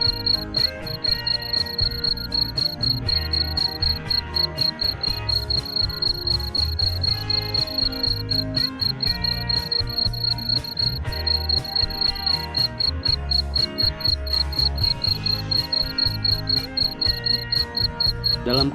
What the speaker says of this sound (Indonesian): jangkrik jantan akan mengeluarkan suara dering terus-menerus